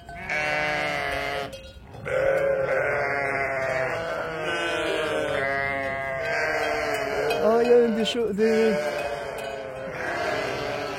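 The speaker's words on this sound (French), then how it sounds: "des bébés moutons, je sais plus comment on appelle ça." Sheep and young lambs bleat in a nearby flock that includes a billy goat, with overlapping drawn-out calls that follow one another almost without pause, while someone talks softly in French between them.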